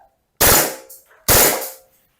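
A gas-powered BB pistol fires two sharp, loud full-auto bursts in close succession, each a dense rattling volley that cuts off abruptly, with silence between and after.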